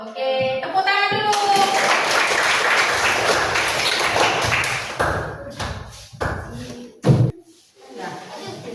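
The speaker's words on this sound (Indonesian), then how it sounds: "Oke, tepuk tangan dulu." Classroom of students clapping together during an Islamic studies teaching session, a strong burst of applause that holds for several seconds, then thins into scattered claps and taps alongside a few voices.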